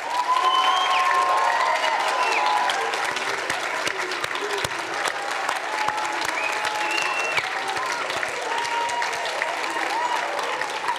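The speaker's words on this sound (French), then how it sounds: "S'il vous plaît, un tonnerre d'applaudissements pour Kemar." A large audience applauds a speaker at a high-school eloquence contest in Montreuil, loud continuous clapping with some cheering, while synth-like music tones rise and fall beneath the applause throughout.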